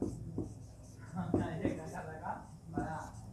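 A pen scratches across paper in short strokes during a Class 10 maths lesson, faint and close, under a steady stream of talk.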